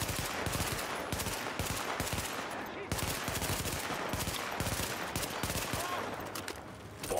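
Rapid automatic gunfire in The Division as a whole magazine is emptied, a dense unbroken stream of loud shots lasting several seconds amid game action.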